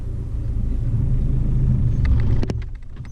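Car engine juddering at the clutch bite point during a driving lesson, a steady low rumble that swells slightly, then drops away near the end after a brief knock.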